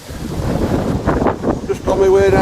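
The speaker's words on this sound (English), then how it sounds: "A bit windy today" Wind buffets the microphone in steady gusts by a river, with a faint rushing outdoor backdrop and a brief tonal whine near the end.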